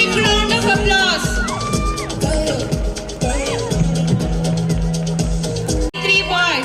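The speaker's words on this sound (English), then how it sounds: "Give a big round of applause." Cheers, whoops and shouts from a crowd at a school annual day celebration as the cricket-winning team is announced, mixed with loud, steady music throughout and a brief dip near the end.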